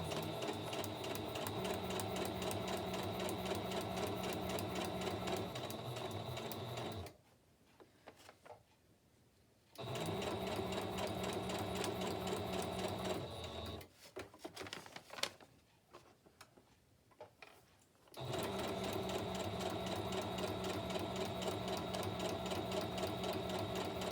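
A sewing machine stitches paper journal pages, running in a steady fast mechanical whir for several seconds, pausing, then running again in longer stretches, with quiet handling noises in the gaps.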